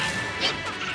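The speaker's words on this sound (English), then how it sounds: "Oh, both players smashing for their 4 smashes." Smash attacks land in a Super Smash Bros. 4 match between Pikachu and Diddy Kong, a sharp crashing hit over game noise with a brief whooshing swell midway.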